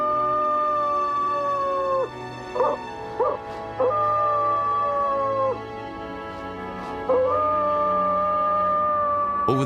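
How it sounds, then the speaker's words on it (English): A coyote (Canis latrans) in Yellowstone gives long rising and falling howls broken by short yips, clear and fairly close over a low background hum. "Let's call this one Cain, short for the coyote's Latin name, Canis latrans, the talking dog."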